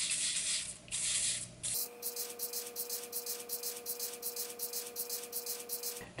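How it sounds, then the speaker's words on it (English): Bursts of spray hiss from an aerosol can of gloss brown paint onto a reindeer figure's antlers, two long blasts then a run of short rhythmic sprays, close by, with a steady faint hum underneath. "so we're going to spray that on."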